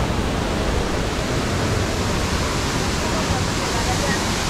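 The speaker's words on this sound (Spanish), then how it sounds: "La cascada es increíble." Misiguay waterfall in Santander, Colombia, about 12 metres high, a constant, loud, close roar of falling water, dense and unbroken throughout.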